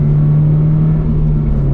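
Car engine held at steady revs during a slow heel-toe downshift into third gear, a smooth continuous drone with a strong low hum, close and loud with no talk.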